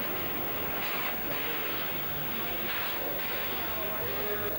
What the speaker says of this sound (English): It's hauling here what was known as a birdcage passenger car.